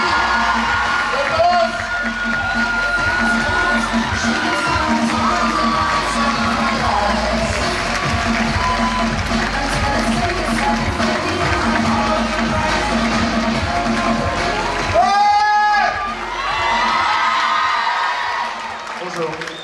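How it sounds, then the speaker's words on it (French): A cinema audience at a Paris film premiere at Le Grand Rex applauds and cheers the director, sustained crowd clapping with whoops and shouts, and a voice briefly cuts through near the end. "Faites un tonnerre d'applaudissements à Romain Lévi."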